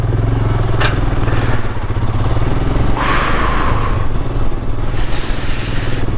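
Motorcycle climbing a steep, cold mountain road in Mustang, Nepal, its engine droning steadily up close while gravel clatters and scrapes, with a couple of brief hissing bursts along the way.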